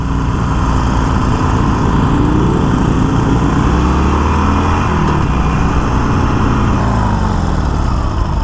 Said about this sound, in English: I hate the sound of stock pipes